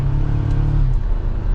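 A 2024 Toyota Tacoma SR5 4x4 truck gets up to speed with a loud, steady engine drone from inside the cab, a smooth rumble with no speech.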